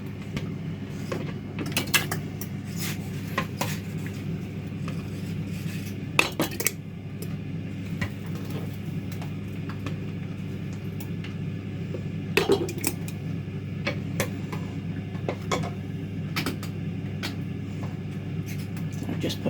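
Glass jars for homemade cherry pie filling are handled in a kitchen, with intermittent clinks, taps and rattles of glass set down and shifted over a steady low hum, the knocks scattered irregularly and fairly close.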